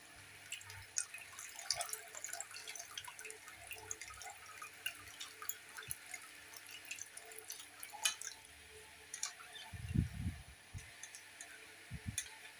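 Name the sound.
water squeezed out of salted raw mango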